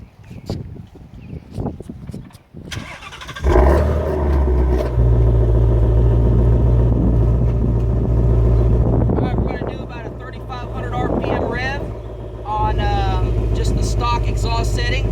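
A 2016 Shelby GT350 Mustang's engine starts and revs to around 3,500 RPM in regular exhaust mode, a loud, deep rumbling idle and rising growl from the exhaust at the rear, with people talking over it and some wind buffeting.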